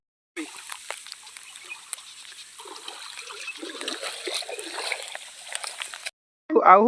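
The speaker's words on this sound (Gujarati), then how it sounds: "कुणाल भाई नदी में जा रहा है" River water splashing and sloshing as someone wades in near farm fields, a close, continuous run of splashes and trickles that cuts off abruptly before a brief final burst.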